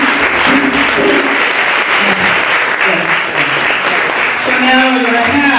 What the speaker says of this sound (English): let's give all of them a huge round of applause